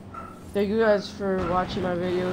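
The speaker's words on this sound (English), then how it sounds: "Sorry for the barking." A dog barks and yips close by in a couple of short bursts at home, with a person talking over it.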